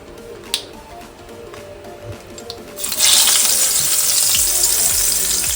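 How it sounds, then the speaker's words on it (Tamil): Stuffed brinjals frying in a hot pan, a quiet crackle that jumps into a loud, steady sizzle partway through and holds, close and alone without talk. "இப்போ நம்ம கத்திரிக்காய் ஸ்டஃப் பண்ணி வச்சுருந்தால அதை வந்து நம்ம அந்த வானலிக்குள்ளே போட்டு நல்லா ஃப்ரை பண்ணிக்கணும்."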